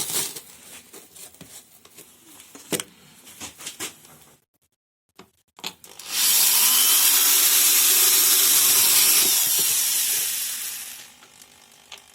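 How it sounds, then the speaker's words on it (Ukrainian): Self-tapping screws driven into a wooden beehive wall, heard as scattered clicks and handling knocks, then a long steady whirring drive lasting several seconds before it stops. "беремо другу стіночку, так само укручуємо саморізи"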